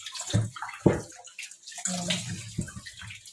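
Water splashes and swishes in uneven bursts as oranges, pears and apples are rinsed and soaked in a basin, heard up close with no talk.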